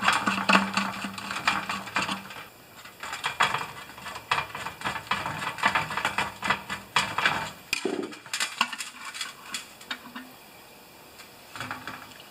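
Screws being loosened on an older Murray lawn mower, a busy run of close, rapid ratcheting clicks and metallic scraping that keeps on for several seconds, then thins to scattered clicks, with no talking.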